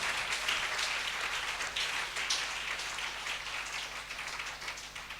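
Congregation at a church service applauds and cheers the Lord, a sustained wash of clapping at moderate distance, fairly even throughout with no voices on top.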